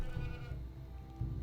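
A goat bleats at a goat farm in the city-building game Civ City Rome, one sustained wavering bleat heard faintly over a low ambient hum with no speech.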